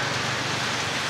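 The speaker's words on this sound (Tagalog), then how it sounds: "Narinig niyo ba yung patak ng ulan?" A steady, close patter of raindrops falls continuously at a beach in Ternate, Cavite, heard from under shelter, a dense hiss of rain with no voices.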